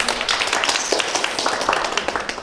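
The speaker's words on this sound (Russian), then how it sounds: "Аплодисменты." A small group claps briskly in steady applause, with some voices mixed in under the clapping.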